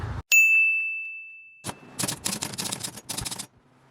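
An old abandoned typewriter found in a field: a bright ringing bell ding followed by bursts of rapid key clacks and carriage clatter, close and crisp, without voices.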